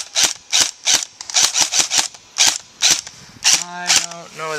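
Airsoft guns fire in a quick run of sharp, loud cracking shots outdoors during an airsoft war game, roughly a dozen pops in uneven bursts, with a ringing tone near the end.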